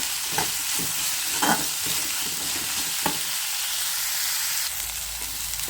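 White brinjal and fresh green peas sauté in tempering oil over medium heat, giving a steady close sizzle broken by a few soft stirring scrapes.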